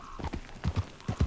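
Horse hooves clip-clop in a quick uneven rhythm, close and fairly soft, with no voices, in the video game Red Dead Redemption 2.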